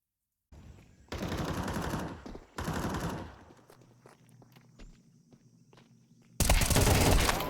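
Bursts of AK rifle fire in Counter-Strike, two loud sustained volleys close together, then quieter game ambience and footsteps, then another heavy burst at the end.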